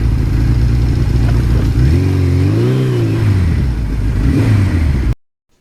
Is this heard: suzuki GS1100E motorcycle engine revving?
yes